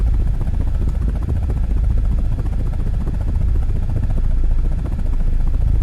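An attack helicopter's rotor in a video game drones loudly and steadily throughout, a continuous thrumming roar with no pauses.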